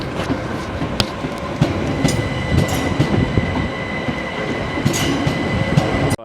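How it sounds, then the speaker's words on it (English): A tram runs through Croydon, its wheels and cars making a steady, loud rumble with rail clatter across the whole stretch, close by and with no one talking. "I got a little tram service running through here."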